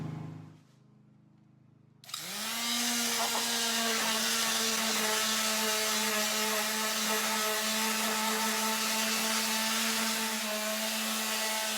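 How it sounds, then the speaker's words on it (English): A power sander starts up and runs continuously on a rough-cut red oak board fresh off the sawmill, a loud, steady whine with a strong hum that holds unbroken after a quiet start. "I'm going to sand off some of that red oak too"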